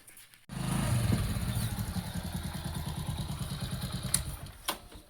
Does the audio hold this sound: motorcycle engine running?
yes